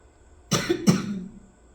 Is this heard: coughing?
yes